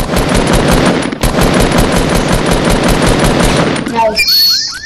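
Rapid, loud automatic gunfire in Fortnite rattles in dense bursts with a brief gap, then cuts off into a short flurry of whistling, chirping game effects, with players talking over it.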